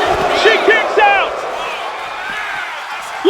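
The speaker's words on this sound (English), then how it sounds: "Listen to this crowd. They're getting behind Bishop." Arena crowd at a WAW wrestling event calls out and cheers for Bishop, with short rising whoops and shouts over a steady murmur, loud and close.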